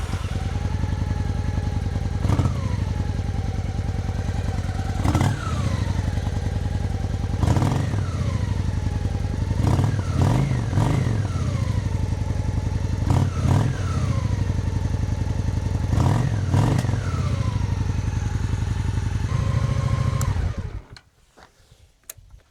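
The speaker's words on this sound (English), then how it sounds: "I'm going to start this thing up and let the engine run for a couple of minutes" A classic Honda Shadow ACE 750 motorcycle engine idles steadily during a coolant change, with repeated revving bursts and clattering, running loud and close for about twenty seconds before cutting out abruptly.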